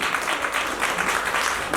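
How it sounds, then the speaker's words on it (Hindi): Hall audience at an astrology conference clapping loudly on request, a brief, dense burst of applause that stays strong and steady from start to finish. "आप सभी अपने लिए जोरदार तालियां जरूर करें।"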